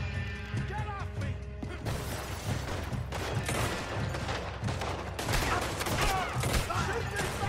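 Rapid bursts of gunfire in a Red Dead Redemption 2 shootout, shots cracking in dense overlapping volleys against a busy game soundscape with voices shouting underneath.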